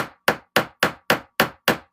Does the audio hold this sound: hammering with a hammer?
yes